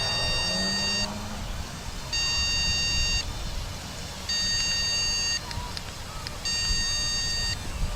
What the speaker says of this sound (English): there's our battery warning